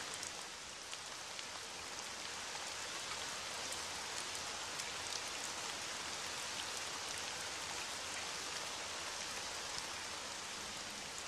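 Steady rain falls on a rainy day in a Bengali cartoon, an even, dense hiss of drops with faint scattered patters that stays constant throughout, with no voices.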